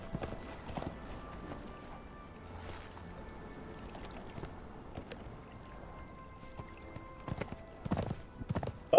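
Soft rhythmic clip-clop of horse hooves at a walk in the video game Conan Exiles, fairly quiet, with a few sharper knocks and faint ambient noise.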